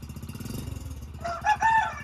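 A motorcycle engine rumbles steadily after a cold start outdoors following rain, and a rooster crows loudly nearby over the idle in the second half.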